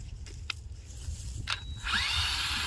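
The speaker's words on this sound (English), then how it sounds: "Just drill in up to the tape." A power drill bores a tap hole into a maple tree trunk during sugaring season in Ohio, a short faint whir rising near the end after scattered clicks and handling noises.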